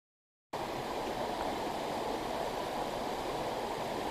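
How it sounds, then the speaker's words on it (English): Small river rapids rush toward a waterfall near Flesherton, Ontario, a continuous broadband watery roar starting after a brief silence and holding steady and close. "This is just a little rapids on the river going to Hogg's Falls"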